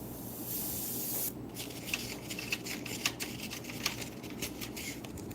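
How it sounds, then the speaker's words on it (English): An airbrush sprays in steady, continuous hissing bursts while being cleaned out, a broad airy rush with faint clicks and rattles scattered through it, fairly close and without talk. "I was cleaning out the airbrush."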